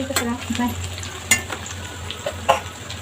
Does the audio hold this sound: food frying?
yes